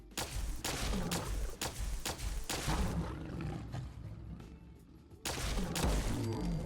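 Plasma Defender pistol fired repeatedly in Fallout 4, about eight sharp energy shots in quick succession, loud and close, followed by a short pause and another burst of fire.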